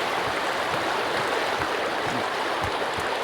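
Steady rushing creek water in the Sons Of The Forest video game, a loud, continuous broadband wash heard up close, with faint low thumps underneath and no talk.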